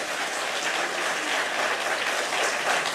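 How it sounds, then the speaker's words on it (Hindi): Sustained, dense applause from an audience at a government event for beneficiaries of a chief minister's solar self-employment scheme, a steady even roar of clapping with no voices over it. "तो एक बार जोरदार तालियां इस योजना के लिए।"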